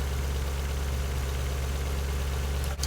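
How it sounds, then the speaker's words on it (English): A designed engine sound effect for a Transformer robot: a steady, droning engine hums at a constant low pitch, loud and close, ending with a brief click. "So now that engine takes over."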